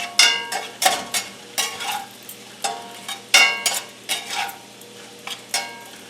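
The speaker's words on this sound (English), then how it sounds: "I'm going to let all of this simmer and mingle a little while" A sauce with Frank's Red Hot cooks in a pan under rhythmic stirring. A utensil scrapes the pan in repeated bursts about every half second over a soft sizzle, with no talking.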